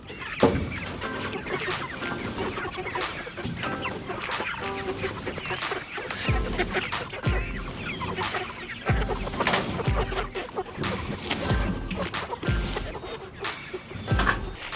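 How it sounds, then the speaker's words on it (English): Young chicks from a backyard homestead flock cluck and peep steadily in a busy, overlapping chorus close by, with scattered rustling and knocks as their movable chicken tractor is shifted. "right over here we have our new chicks that we have gotten also from Murray McMurray"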